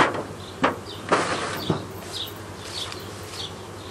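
Honey bees hum around an opened beehive in an apiary, a steady low buzz with several sharp clicks and knocks from handling the hive boxes.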